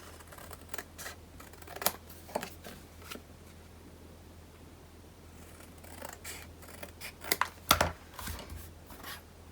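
Paper hinges snipped with scissors during a scrapbook page craft project, a few soft crisp cuts scattered through quiet handling noise.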